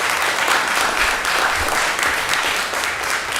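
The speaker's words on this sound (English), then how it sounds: "I believe he deserves a round of applause just for informing the public." A room at a Paterson, New Jersey city council meeting breaks into applause, a dense, steady clapping from a crowd that stays loud and even throughout without any voices.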